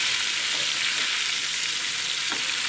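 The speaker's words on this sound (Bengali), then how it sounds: "আর এই মাছটা খুব কড়া করে ভাজতে হবে" Pieces of rohu fish frying hard in a pan, a steady, dense, close sizzle with no pauses and no talking.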